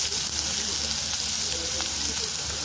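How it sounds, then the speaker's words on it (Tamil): Chopped small onions with salt frying in a pan while preparing Jaffna fish puttu, giving a steady, close hiss and sizzle that holds even and unbroken throughout with no talk over it. "வெங்காயம், சின்ன வெங்காயம், உப்பு, வெங்காயம் வதங்கட்டும்."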